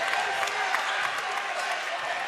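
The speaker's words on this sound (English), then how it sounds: "Crowd coming alive in these final minutes." Spectators at a 2023 Central League boys' basketball championship cheer and applaud in the closing minutes, a steady, dense roar of crowd noise filling the gym without letup.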